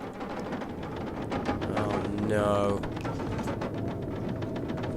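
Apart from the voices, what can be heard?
storm weather outside in the video game The Long Dark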